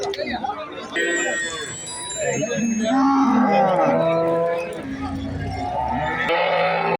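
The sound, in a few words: native breed cattle mooing at cow market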